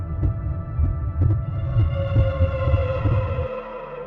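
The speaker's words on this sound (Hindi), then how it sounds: "मुझे अपनी खुद की धड़कन साफ सुनाई दे रही थी" A heartbeat sound effect thumps in a steady low pulse, repeated beats under a droning hum and faint tonal music, with the beats stopping near the end.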